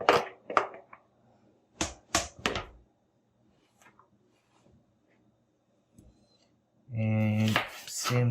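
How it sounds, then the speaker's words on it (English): A knife chops onions on a cutting board, giving a few sharp separate knocks spaced out at first, then a long quiet gap before a voice starts speaking. "all I'm doing is cutting my onions and nothing else"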